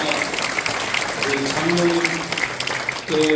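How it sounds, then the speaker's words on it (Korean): An audience at a church elders' congratulatory address claps in a steady wash of many hands, with faint voices or tones surfacing in the middle and near the end. "다시 한 번 박수 주시기 바랍니다"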